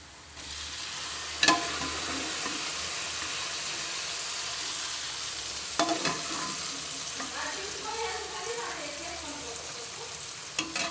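Ingredients for a blood curry go into a pan and fry with a strong, steady sizzle, a couple of sharp clanks of a utensil against the pan, and quieter stirring sounds later on, close and unvoiced.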